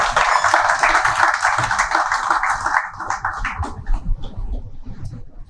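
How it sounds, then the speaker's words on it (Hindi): Applause from an audience at an auditorium book launch, welcoming an author and artist: dense steady clapping for nearly three seconds, then thinning into scattered claps and low rumble. "तालियों की गूंज में इस्तकबाल कीजिए"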